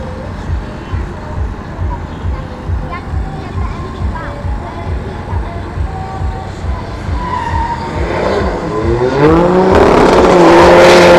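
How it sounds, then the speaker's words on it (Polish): Porsche and Dodge cars drag race on a quarter-mile strip at an airfield motor show, with a rhythmic engine throb giving way to rising revs and a roaring surge of acceleration near the end, while a voice talks over it. "Porsche kontra Dodge."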